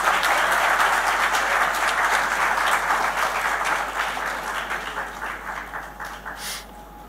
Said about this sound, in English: Can I have a round of applause for our guests